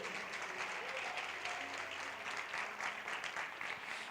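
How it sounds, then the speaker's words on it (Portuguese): A church congregation claps together for Jesus at an evening service, a steady, even wash of applause filling the room at moderate distance and fairly faint, with no speech over it. "Quem crê nisso, dá uma salva de palmas para Jesus."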